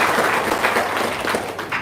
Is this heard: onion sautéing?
no